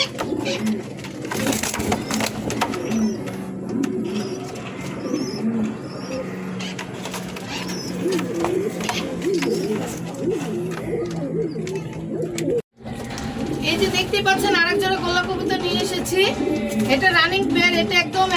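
Pigeons in a cage coo with low, rolling calls in a busy market-like setting, under nearly continuous nearby talking, with a brief dropout before the cooing resumes more clearly.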